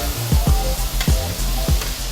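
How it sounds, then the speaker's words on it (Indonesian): Rica-rica spice paste sautéing in a pan, a loud continuous close sizzle with rhythmic scraping strokes of a spatula stirring about every half second. "Terus bumbu rica-ricanya ditumis sampai harum."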